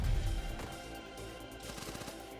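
Piercing shots in the card-based action game One Step From Eden snap off in a quick burst of sharp synthetic gunfire over busy game music, loud and close at first, then thinning.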